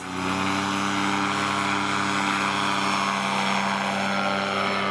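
A light aircraft engine fitted with a new carburetor throttles up for takeoff, a loud, steady droning roar with strong harmonic tones held throughout, close by.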